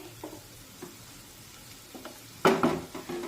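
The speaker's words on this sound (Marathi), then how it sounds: "सगळीकडून कांदा एकसारखा भाजला जातो" Onion cooking soft in a pan, with quiet stirring scrapes and a brief louder burst of sizzle and utensil clatter near the end, otherwise low and close.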